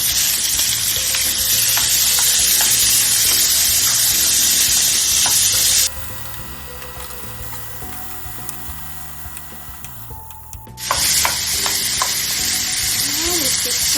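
Chicken pieces sizzle loudly in a pan and get stirred with scraping utensil strokes; the hiss drops sharply midway, then surges back to full strength.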